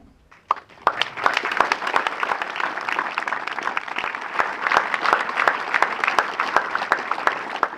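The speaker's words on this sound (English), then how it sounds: "the applause could have gone for 90 minutes" Loud, sustained applause from a crowd at the unveiling of a statue of John Trollope, starting after a moment of quiet and continuing with dense, steady clapping to the end.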